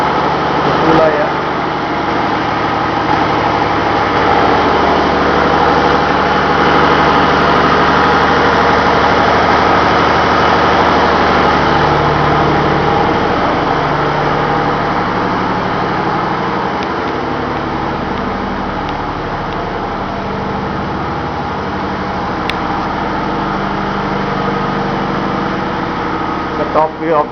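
Ship's main engine idling in the engine room, a loud, continuous mechanical drone with steady low throbbing that fills the space throughout.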